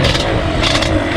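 A steady, rough engine idle from an abandoned Yamaha Banshee, close by and continuous for about a second, with no voices.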